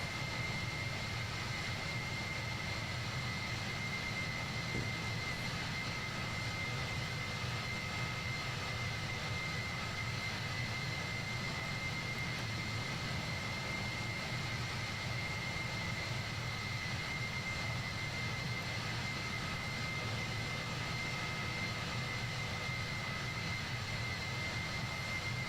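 Boeing 767 jet engines hold a steady cruise in Microsoft Flight Simulator 2020, a constant even cabin roar with a faint high whine, unchanging and uninterrupted throughout.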